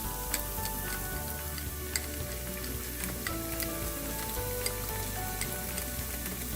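Ginger and garlic paste sizzles and fries steadily in hot oil after browned onions, a continuous close crackle with scattered sharp pops and no talking.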